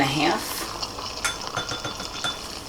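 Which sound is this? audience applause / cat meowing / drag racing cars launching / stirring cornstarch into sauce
stirring cornstarch into sauce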